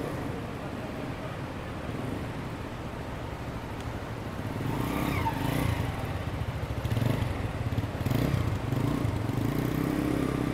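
A Euro 125 motorcycle runs through a riding skills test for motorcycle taxi applicants, its steady engine drone growing louder and busier about halfway through, with no talk.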